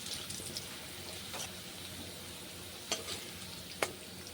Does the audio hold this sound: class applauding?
no